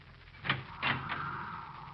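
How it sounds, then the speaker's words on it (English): A door opens in an old radio drama, heard as a soft creak and latch click over a steady broadcast hiss, fairly quiet and alone. "I'll open the door."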